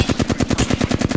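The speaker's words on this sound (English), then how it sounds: "With a fucking charge rifle." Rapid, evenly spaced charge rifle shots from Apex Legends crack out loud and close, about a dozen sharp bursts in quick rhythmic succession with no speech over them.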